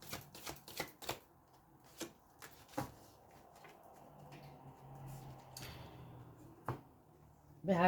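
Oracle cards shuffled by hand, a burst of crisp riffling flicks and taps at the start, then quieter soft card handling with occasional sharp slaps, close up and with no talk.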